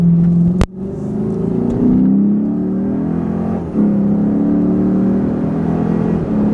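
A Lexus IS-F with its muffler deleted revs hard, a sharp click up front giving way to a loud, sustained engine roar that rises and falls through the revs, close by with no talking.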